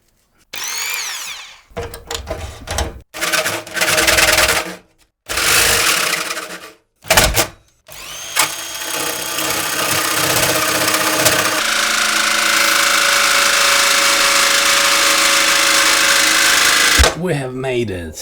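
A power drill bites into the metal side panel of a Phanteks P600S PC case in loud, close, stop-start bursts, then runs continuously for several seconds with a rising whine.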